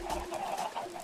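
Blocky video game chickens give off a short run of clucks, a few soft repeated calls close by with no talk over them.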